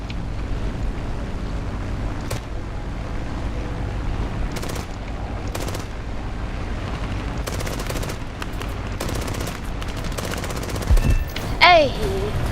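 Machine gun fire in the War Thunder aircraft game, with a Yak-9 fighter in play: repeated bursts of rapid gunfire over a steady engine drone, with a voice talking at times.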